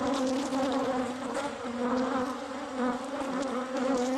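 A steady, dense buzzing of bees in a hive deep inside a house wall, close and continuous with a low hum that swells slightly throughout.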